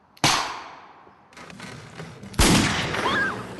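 Two loud, sharp gunshot sound effects for a film crack out about two seconds apart, each with a decaying tail, and fainter rattling noise between them.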